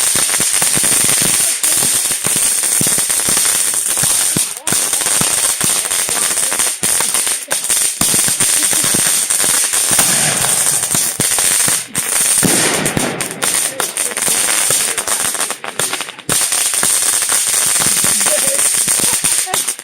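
Fireworks spraying out to the sides, a dense run of firecracker-like pops and crackles that fills the whole stretch at close range, loud and continuous, with people talking now and then underneath.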